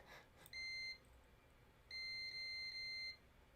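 Disney lightsaber electronics during a repair give two high electronic beeps, a short one then a longer sustained one, clear and close against a quiet hiss, with no voices.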